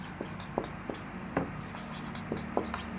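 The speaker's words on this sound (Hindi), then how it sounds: "तो इसे हम लोग एक नोट की तरह लिखेंगे यहाँ पे" A pen writes a note by hand in a classroom setting, producing faint, quiet scratching strokes with a few sharper taps spaced irregularly over a few seconds.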